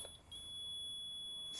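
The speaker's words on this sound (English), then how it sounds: "So we got the digital stabila here. And so basically when it's level, it'll beep." A digital Stabila level emitting a continuous high-pitched electronic beep as it reaches level on a front porch deck, steady and fairly faint over low background noise.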